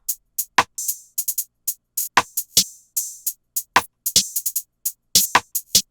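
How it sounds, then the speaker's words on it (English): A drill beat pattern made of crisp, bright hits with short hissy stereo open hi-hat tails, sharp attacks in an uneven syncopated rhythm, each sound dropping away into silence. "And then I have an open hat, which is gonna be like very stereo, kind of quiet in the mix. It's gonna sound like this."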